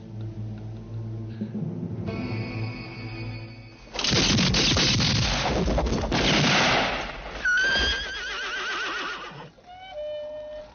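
A horse neighs in a Sergio Leone western scene, loud whinnies rising late in the passage after a dense stretch of gunfire and clattering, with music-like tones early on.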